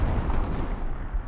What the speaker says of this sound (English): takes them down with the MG